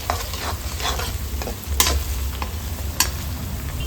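Curry leaves fry in a pan for Coorg-style chilli pork, a steady sizzle under repeated scraping and stirring strokes, with a couple of sharper clinks of the utensil.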